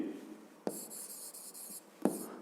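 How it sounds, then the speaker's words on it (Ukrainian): Pen writing on paper while notes are taken in a physics lesson, a quiet close scratching with a few short strokes and soft taps, alone without talk. "давайте запишемо тоді, отже, рух землі"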